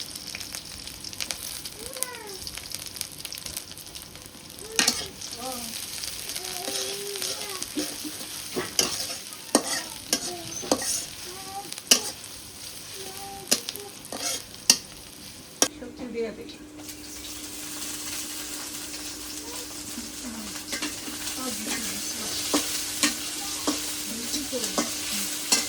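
Onion and green chili fry in a pan during village-style cooking, giving a continuous loud sizzle with frequent scraping stirs. Partway through, the sizzle settles into a steadier, smoother hiss.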